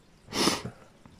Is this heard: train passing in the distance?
no